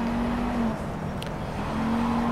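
Ford Focus racing engine from Project Cars, a steady close drone with a held tone that dips midway and returns, a brief higher flicker near the middle, no voices.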